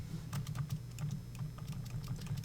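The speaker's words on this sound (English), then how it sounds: "let's do a find function on our keyboard for Control F for 5100" Fingers tap steadily at a computer keyboard entering a search shortcut and number, a continuous run of light, close keystrokes over a low steady hum, with no voices.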